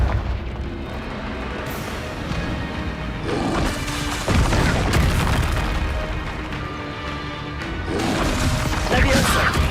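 Confringo explosion spell in Hogwarts Legacy, heavy booming blasts and crashing impacts erupting repeatedly amid loud combat noise, with a voice calling out spells over the action.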